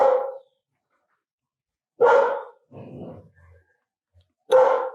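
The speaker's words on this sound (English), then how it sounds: "I think there's some dogs outside the property." Dogs barking outside a property in short, loud bursts, with a quieter growling or whimpering stretch between barks and long silent gaps.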